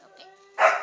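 A dog barks in the background, one short burst of sound near the end after quieter tonal sounds, with a brief spoken word.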